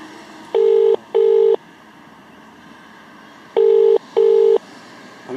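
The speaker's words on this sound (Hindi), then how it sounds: "देखिए फोन बज रहा है।" A telephone call rings out as a loud ringback tone: two pairs of double beeps with a steady low hum between them.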